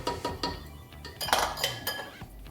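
A spoon stirs and scrapes macaroni and cheese around a metal pot, making continuous clinking and scraping with irregular knocks against the sides, close and steady.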